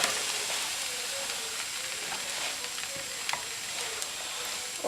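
Crêpe batter sizzles steadily in a hot pan, a continuous bright frying hiss with faint crackles and a few small pops, close and even throughout with no talking.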